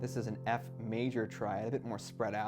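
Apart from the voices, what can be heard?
No everyday noises stand out.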